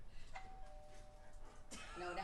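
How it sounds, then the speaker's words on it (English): A doorbell gives a faint chime, first a clear sustained tone and then a second ring near the end, set in a quiet room with muffled voices and shuffling around it. "Cheryl, could you ring the bell so we can test this?"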